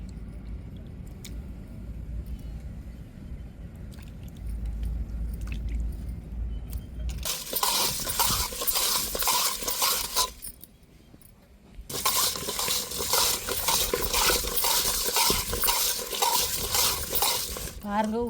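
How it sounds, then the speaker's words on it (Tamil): Conch meat being rubbed with coarse rock salt and washed in a bowl, with long bursts of gritty scraping and sloshing, loud and close, separated by a short quieter pause, with faint clinks and dish sounds before it. "உப்புக்கல் போட்டு உரசினா தான் அந்த வழுக்குத்தன்மை நீங்கும்."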